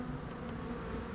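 Honey bees buzz around an opened Flow Hive 2 during mite treatment, a dense continuous drone of many insects close by, steady and moderately loud with no talking.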